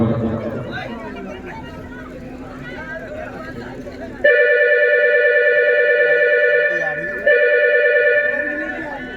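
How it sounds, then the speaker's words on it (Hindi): A telephone rings in two long electronic trills, loud and near, after a stretch of crowd chatter and voices. "देव साहब जी एक बार फोन लगाइए"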